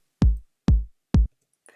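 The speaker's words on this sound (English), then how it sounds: "I've got this kick drum ready, which is from the Roland 909 drum kit that's actually within Logic" Roland 909 kick drum played from Logic Pro: three punchy, booming electronic kicks evenly spaced, each with a deep decaying low thump, followed by a brief faint trailing noise.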